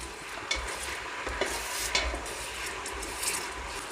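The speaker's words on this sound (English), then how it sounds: "you want to just keep stirring" Beef massaman curry is stirred in a pan, with a steady sizzle of frying under repeated scraping strokes of the spoon against the pan, close and continuous.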